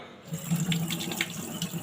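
An item is rinsed under a running tap, with a continuous close splashing rush of water that shifts slightly in texture as the object moves through the stream.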